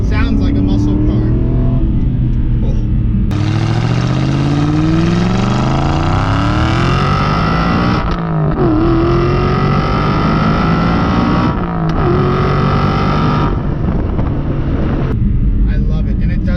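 Naturally aspirated V8 of an Aston Martin Vantage revving loudly and close, rising and falling through several long pulls over roughly seventeen seconds, with someone talking over the engine.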